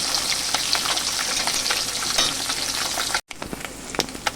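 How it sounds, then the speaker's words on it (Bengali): Small puti fish sizzle and crackle steadily in hot oil in a kadai, a loud continuous frying hiss with a brief dropout near the end. "এবার আমি উল্টে পাল্টে মাছগুলো ভেজে নেবো"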